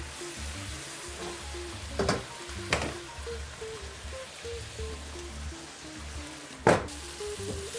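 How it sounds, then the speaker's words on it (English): Onions sizzling in a pot, a soft steady frying crackle with a few sharper scraping knocks from stirring, fairly quiet and without talk. "I'm going to give the onions a little bit of a stir."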